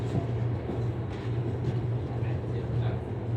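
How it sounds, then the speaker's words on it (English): A steady low rumble and hum of a train leaving Fremantle Station moving along the tracks, with a droning tone holding throughout, fairly close. "now that train's leaving"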